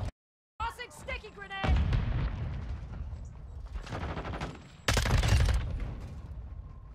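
Loud bursts of gunfire and a heavy explosion from a sticky grenade in a Call of Duty Modern Warfare II match, with a loud blast near the end over ongoing shooting.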